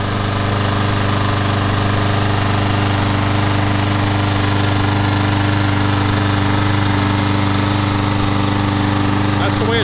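Troy-Bilt small engine running steadily just after an oil change, a constant loud chugging drone with a fixed pitch, close up and uninterrupted throughout.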